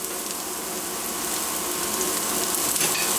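Sliced onions and a whole unpeeled crushed garlic clove frying in a pan, giving a steady, even sizzle that holds at a constant level close by, with no voices over it.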